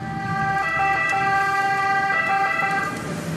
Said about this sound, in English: this constant sound of sirens, which is these guys responding to cases of COVID-19 that need urgent care